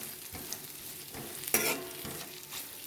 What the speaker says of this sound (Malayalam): വഴറ്റിയെടുക്കാം